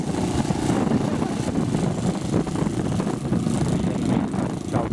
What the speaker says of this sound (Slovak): práve robí motorovú skúšku. Počujete, ako to pekne vrčí